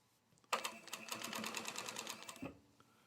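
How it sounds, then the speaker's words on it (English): A sewing machine stitching a collar, a quick steady run of rapid mechanical needle clatter lasting about two seconds, close and fairly faint, starting and stopping abruptly, heard alone without talk. "We're now stitching in place."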